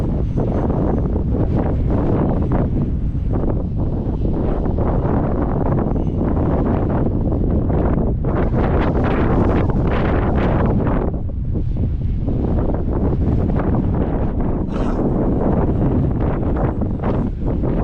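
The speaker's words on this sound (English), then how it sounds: "It's windy up there also." Strong gusting wind buffets an onboard microphone on an E-flite Extra 300 model plane flying in rain and wind, a continuous loud roar surging and easing throughout with no voices.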